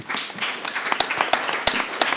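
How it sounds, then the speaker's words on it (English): A few sharp, scattered claps from an audience at a conversation event on history and race, thin and uneven rather than a full ovation, with no one speaking. "thanks for the big round of applause for them"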